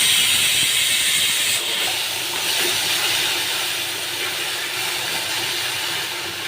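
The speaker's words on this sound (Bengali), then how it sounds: "এবার আমি আদা রসুন আর কাঁচা লঙ্কাটা দিয়ে দিলাম, হালকা একটু জল দেবো।" Water added to ginger, garlic and green chilli in a hot pan for a pabda fish curry, bursting into a loud hissing sizzle that settles into steady steaming spatter, with no talking.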